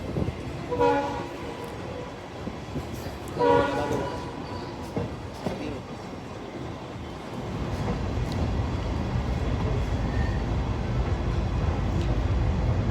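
A Dhaka-bound special train carrying cattle and mangoes runs through Gandaria junction station without stopping. Two short horn blasts sound near the start, then a steady rumble of passing wagons builds and holds. No one speaks.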